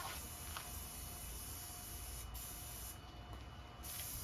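Spray paint hisses steadily from an aerosol can onto a wooden pallet, a loud, continuous close-up spray lasting several seconds with only a slight dip near the end.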